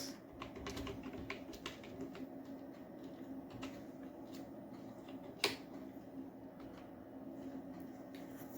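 Computer keyboard keys tapped while typing Python Pandas code, a quiet scatter of irregular clicks with one sharper keystroke, close to the microphone over a low steady room hum.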